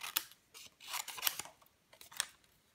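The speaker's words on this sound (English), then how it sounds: "I'm literally going to quickly fussy cut them out." Scissors snip out paper card pieces, rough-cutting stamped shapes for a handmade card. Short crisp cuts come in quick irregular bursts, close and fairly quiet, with no voices.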